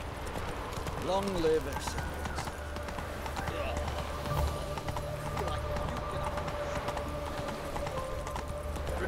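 Horse hooves clip-clop at a steady gait in The Witcher 3, rhythmic and moderately close, beneath a game voice and a brief whinny-like call early on.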